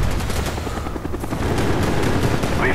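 Video game helicopter heard in a fast-paced shooter, with steady rotor thrum mixed with repeated bursts of gunfire and small booms, loud and close throughout.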